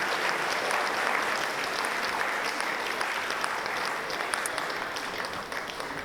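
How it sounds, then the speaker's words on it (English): Applause for a choir fills a large room at a charity ball, a steady wash of many hands clapping that tapers slightly near the end. "Another round of applause."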